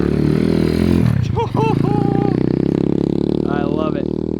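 A 1976 Honda Z50 mini bike with a swapped-in 125cc engine idling and running nearby, a steady loud putter with a slight rev, while people talk over it.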